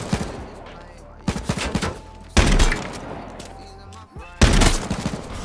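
Heavy shotgun blasts from H1Z1 go off in three loud, separated bursts, each followed by a brief rattle of echo and clatter, with short quieter gaps between them.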